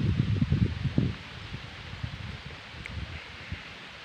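Strong wind gusting through a plantation, heavy rumbling buffets on the microphone at first, then easing into a steady rustle.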